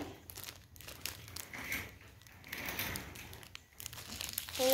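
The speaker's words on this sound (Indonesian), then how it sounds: "Sekarang mau unboxing pakai gunting ya. Nih, Tarah. Ini guntingnya nih. Kita gunting ya" Scissors cut open plastic packaging on a new sticker set, with crinkling, rustling and tearing that stay close and continuous for several seconds.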